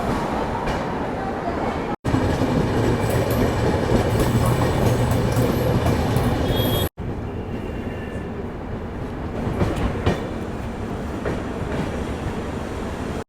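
Shatabdi Express from Ajmer to New Delhi pulling out of Jaipur railway station: a steady rumble of rolling coaches and wheel clatter heard from inside the train, with two brief cuts and faint voices in the carriage.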